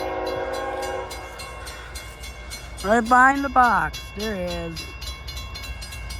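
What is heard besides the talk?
CSX M326 freight train with 71 cars passing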